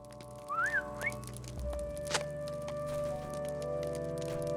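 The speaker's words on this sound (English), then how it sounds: "Take this whistle. It is made to sound like the call of a bird not found here." A bird-call whistle in the Lord of the Rings Online game sounds as a bright rising whistle with a quick second chirp, followed by a sharp crack over a steady musical drone.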